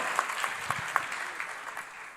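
Moderate applause from a church congregation, scattered claps with a few sharper ones standing out, fading slightly toward the end.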